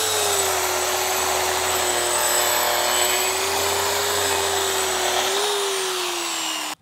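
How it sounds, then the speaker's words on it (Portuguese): Angle grinder running with a dust vacuum hose attached, a loud steady whine and whir that holds at an even pitch for several seconds, dips slightly near the end, then cuts off abruptly. "liga a esmerilhadeira."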